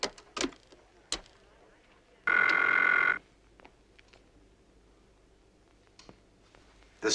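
A telephone in a 1970s Air Force command setting rings once with a loud, sustained electronic bell lasting under a second, set among scattered clicks and knocks from the room in an otherwise quiet space.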